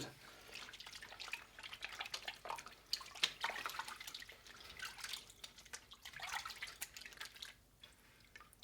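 Hands splash and swish in a bucket of water, a quiet, close series of irregular drips, trickles and sloshes with brief pauses between movements.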